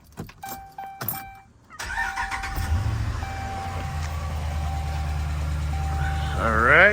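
A 2012 Dodge Ram pickup with a 5.7L HEMI V8 cranks briefly and catches, then settles into a steady, loud idle that rises slightly toward the end, heard close by with no talking.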